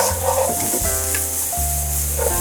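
Ingredients for prawn chow mein sizzling loudly in a hot pan, a close, continuous hiss and crackle of frying with no talking.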